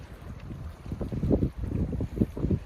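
Wind gusts buffet the microphone at Silver Lake on a cloudy day, a close, uneven rumbling roar that swells and fades throughout.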